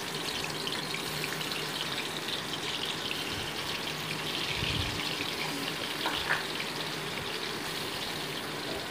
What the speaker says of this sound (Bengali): এবার আমি মাছগুলো দিয়ে দিচ্ছি ভাজার জন্য।